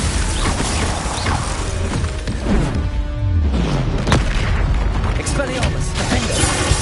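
Glacius freezing spell in Hogwarts Legacy combat, heavy booming impacts and crackling shatters layered over busy battle effects, with a voice calling out spells.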